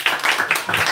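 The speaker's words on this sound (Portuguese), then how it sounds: "Vamos aplaudir para Jesus" A church congregation claps together during a Baptist service, a brief, steady patter of many hands at moderate volume.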